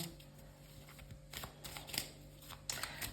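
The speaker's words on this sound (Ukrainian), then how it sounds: "то я просто поки колоду тасую з вами трошки." A deck of cards being shuffled close by, soft riffling bursts and taps at irregular intervals over a quiet background hum.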